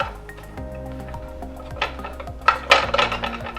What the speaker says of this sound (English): So I'm going to saute these bad boys up.